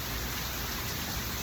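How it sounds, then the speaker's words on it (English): Steady rain falls in an even, continuous hiss with no distinct drops or pauses, moderately loud and unbroken by any voices. "As we look around and we see the rain fall"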